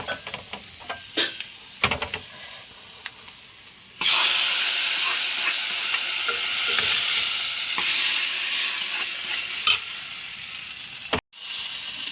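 Curry leaves, dried red chilies and chili powder tossed into hot oil for tempering a yam buttermilk curry, giving a loud, steady sizzle that jumps in intensity partway through, with occasional clinks of stirring.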